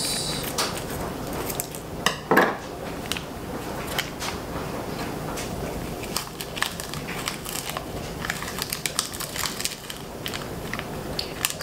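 A metal teaspoon clinks and scrapes against a container while an ingredient for bread is measured out, with one louder clatter early on and soft scattered kitchen handling noises afterward.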